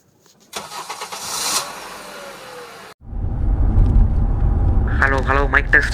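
A vehicle engine cranks and catches after a brief clatter, then settles into a loud, steady running drone close by, with a voice calling out briefly near the end.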